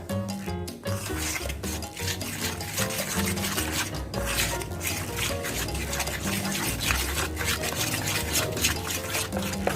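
Frying batter being mixed with ice-cold water in a bowl, a continuous wet rasping and stirring that stays close and steady, with soft sloshing and occasional clinks.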